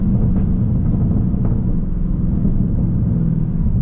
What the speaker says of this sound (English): you'll hear the crackles of the car